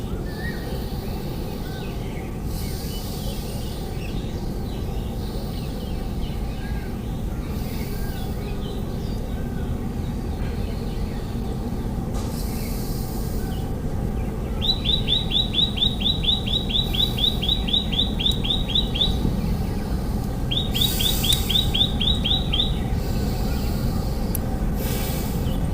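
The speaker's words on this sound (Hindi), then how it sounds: "पंछियों के मधुर कलरव के बीच में" Birds chirping outdoors at a yoga session, rapid trilling bursts repeating over a steady background hum, moderately clear and close, with other faint calls scattered throughout.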